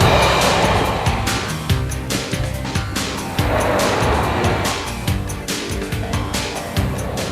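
A 2006 Chevrolet HHR (Heritage High Roof) drives by with a steady engine drone and road noise that swells and dips, with brief tire-scrub textures and no talking.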